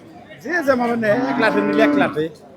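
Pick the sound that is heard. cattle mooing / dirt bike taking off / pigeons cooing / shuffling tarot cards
cattle mooing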